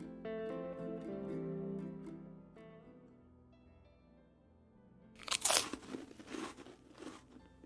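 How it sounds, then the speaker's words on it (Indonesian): Crunchy food is chewed with loud, close, irregular crunches in the last few seconds, after a quieter tonal passage at the start. "enak ya, kriuk-kriuk, krauk-krauk, renyah ya, gurih"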